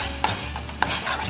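Crushed garlic stirred into hot water in a pot with a utensil, with two light scraping clinks against the pot over a steady hiss of heat, close and alone.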